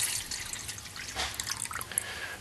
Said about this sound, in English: We're going to add our 2 cups of water exactly